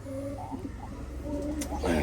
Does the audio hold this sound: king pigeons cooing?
yes